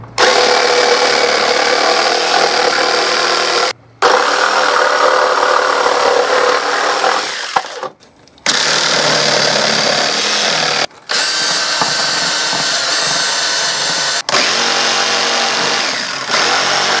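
Power tool, likely a jigsaw, cutting out wooden shelf pieces for DIY medieval shelves: loud continuous buzzing runs in long bursts with brief pauses between cuts, close up with no talk.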